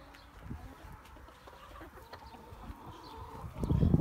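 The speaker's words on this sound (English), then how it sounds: "Look at all the chickens" Chickens cluck softly and intermittently nearby, with scattered rustling, building to louder scuffling and low clucks at the end.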